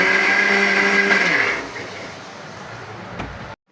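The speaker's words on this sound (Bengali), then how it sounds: "এখন আমি ব্লেন্ড করে নিচ্ছি।" An electric blender grinds pointed gourd peel paste with fried garlic and dried chillies, a loud steady whine that winds down after about a second and a half into a fading hum, then a click as it stops.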